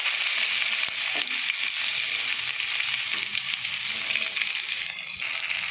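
Onion and cumin seeds fry in hot oil in a kadai, giving a loud, continuous bright sizzle with a few stirring scrapes and clicks throughout. No one speaks.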